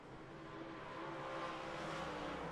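A race car engine drones steadily on the Eldora dirt track, a continuous broadband roar that swells slightly as the car runs nice and straight, with no other sounds on top.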